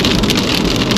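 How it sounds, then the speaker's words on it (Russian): Dense, loud patter of hail or icy snow pelting surfaces outdoors in Lazarevskoye, Sochi, a constant rapid drumming of impacts with no voices. "внешне похоже на снег, а судя по ударам, град"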